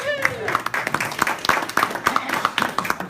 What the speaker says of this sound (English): Give Herb a round of applause.